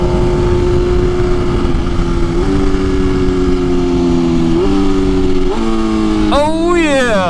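A BMW S1000RR M Package motorcycle with an aftermarket exhaust runs loud and close, its engine droning through steady gear steps before revving up sharply in rising whines near the end.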